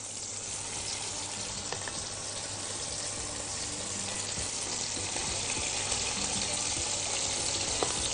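Chicken breasts fry in a pan with a steady, close sizzle and crackle that runs throughout, with faint stirring clinks and no talking.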